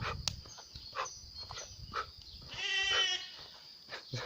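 A sheep gives one drawn-out, wavering bleat midway, close by, among soft scattered knocks and shuffling sounds.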